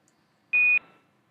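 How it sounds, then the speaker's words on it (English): A Quantar radio beep sounds once during a SpaceX Dragon docking broadcast, a single clear, steady electronic tone lasting about a quarter second in otherwise near silence. "I love that Quantar beep."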